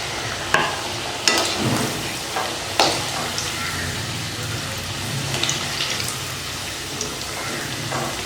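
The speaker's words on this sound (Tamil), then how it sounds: "இப்போ பொரிச்சு எடுக்கலாம்." Vegetable rolls fry in hot oil with a steady broadband sizzle, punctuated by a few sharp clinks and stirring bumps from a utensil against the pan; no one talks.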